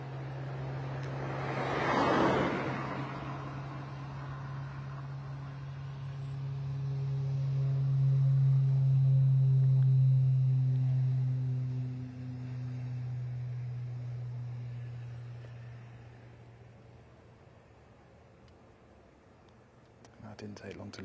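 An aircraft takes off at Bristol Airport, its low, steady engine drone swelling to a peak and then slowly fading into the distance beneath ongoing spoken commentary.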